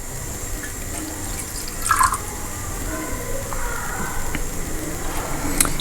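Water trickles into small bowls of food colour at close range, with a brief brighter splash early on followed by a soft, steady dribbling flow and faint drips.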